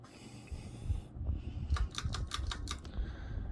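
A Tatung Genghis Khan ceiling fan running at high speed and shaking, giving a steady low mechanical hum with a rhythmic rattling, repeated ticking bursts from its wobbling, close and moderately loud with no talk.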